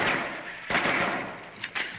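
Gunfire in the video game Rainbow Six Siege: a few sharp shot bursts crack out, one strong report followed by a couple of quicker bangs, fairly close and loud over the game's ambient noise.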